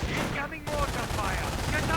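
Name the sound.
mortar and machine gun fire in a video game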